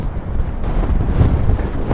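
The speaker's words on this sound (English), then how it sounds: "You could see how windy it is with the grass blowing about there, look." Strong wind gusts across coastal dunes near Dundee and Montrose in December, buffeting the microphone with a steady low rumbling roar that swells slightly midway, loud and close with no voices.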